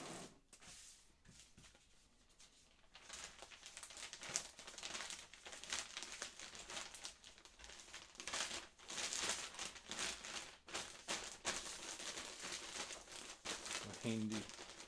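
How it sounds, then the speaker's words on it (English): A plastic poly mailer bag crinkles and rustles in bursts while eBay orders of coffee mugs are packed, with handling noises throughout and a person talking over parts of it. "We got our poly bag."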